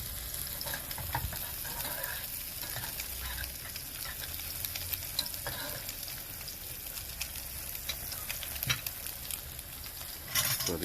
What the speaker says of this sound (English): So the mahi-mahi there is sizzling.